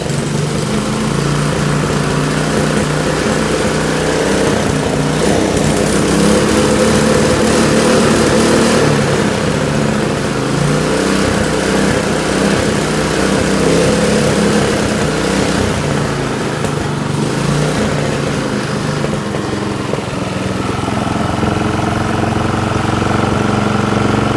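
Small lawn mower engine built into a ricer mower running close and loud, a steady rough putter that rises and falls in speed as the throttle is moved back and forth.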